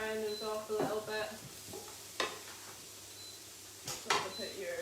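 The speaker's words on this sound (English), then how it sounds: "So just frying our onions." Onions fry in a pan for a honey chilli chicken dish, a soft steady sizzle broken by a few scrapes and clinks of a utensil stirring against the pan, with a voice talking at moments.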